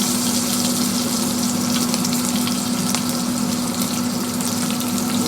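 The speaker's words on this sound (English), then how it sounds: "Let this side sear real quick" Steak searing in a hot pan, with a dense, constant, loud sizzle through the whole stretch and a steady hum underneath.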